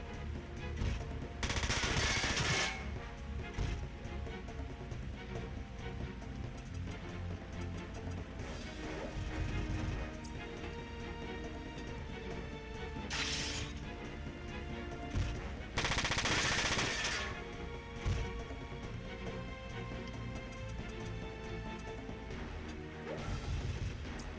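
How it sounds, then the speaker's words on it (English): Sustained gunfire from a mecha battle in the video game Front Mission 4, set at a Zaftran base in Venezuela, with loud bursts and booms rising over a dense, continuous din of combat noise. "Look at that barrage."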